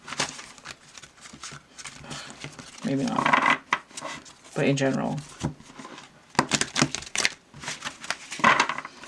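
A tarot deck, slightly bendy from being broken in, is flapped and riffle-shuffled in a few short bursts, close and moderately loud, while a person talks over and between them.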